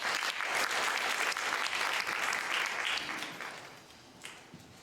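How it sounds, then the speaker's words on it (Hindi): Audience applause at the third International Hindi Conference, a dense, loud burst of many hands clapping that holds steady and then tapers off toward the end, with no voices over it. "ज़ोरदार तालियां दीजिए।"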